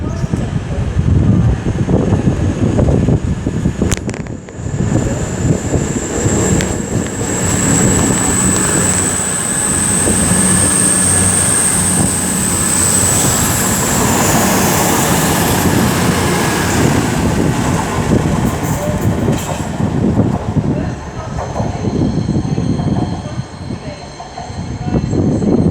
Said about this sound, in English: it looks like 222-021 is now getting ready to depart with the 12:32 East Midlands Railway service to St Pancras International from Sheffield